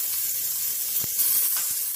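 Garlic hits hot cooking oil in a pan and sizzles with a steady, close, bright hiss for a couple of seconds, with a few small pops and no talking.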